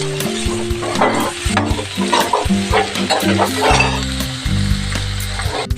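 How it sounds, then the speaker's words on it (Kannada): Ridge gourd with salt stir-fried in a pan, loud close sizzling broken by repeated clinks and scrapes of a ladle against metal, with a low tonal hum running underneath and no speech. "ಸಾಲ್ಟನ್ನು ಸೇರಿಸ್ಕೊಳ್ಳೋಣ ನೋಡಿ ಚೆನ್ನಾಗಿ ಈ ರೀತಿ ಫ್ರೈ ಮಾಡ್ಕೊಳ್ಳಿ"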